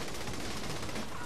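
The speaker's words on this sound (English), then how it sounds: "Shoot the helicopter. Use whatever you've got." Gunfire aimed at a helicopter during a Saints Row 3 mission, a dense rapid burst of shots that fills the whole brief moment at steady loudness.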